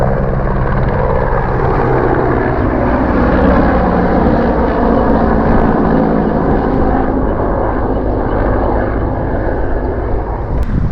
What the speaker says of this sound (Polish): Patrzcie jaką mamy okazję. Wojskowy MiG